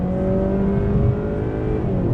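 A 2019 Honda Accord Sport 2.0T with a 10-speed transmission accelerating hard, heard from inside as a loud, steady engine drone and whir with rising tones and no gear breaks.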